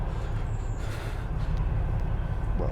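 Train rumbling along a nearby railway line behind a forest, a steady, low, continuous roar that holds evenly throughout, with no voices.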